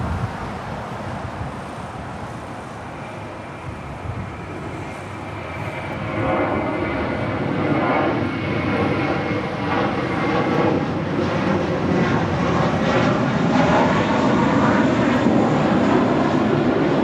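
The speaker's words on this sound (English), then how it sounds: "This is American Airlines Flight 274 departing to JFK on an A321." American Airlines Airbus A321 departing Los Angeles International Airport for JFK, the jet engine roar building around the middle and holding loud and steady, with a pulsing, rippling rumble as it passes.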